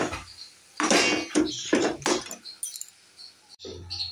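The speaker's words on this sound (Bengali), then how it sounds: "এবার এটাকে এর সঙ্গে ভালো করে মিশিয়ে দেবো" Khoa being mixed by hand into a sweet mixture, with a few loud scraping and stirring bursts of spoon against bowl in quick succession, close by.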